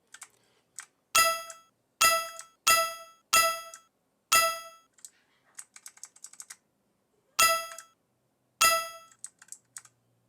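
A bright metallic collect sound effect from a Scratch chase game rings out about eight times in short, separate bursts with brief silences between, and a softer cluster of small clicks in the middle.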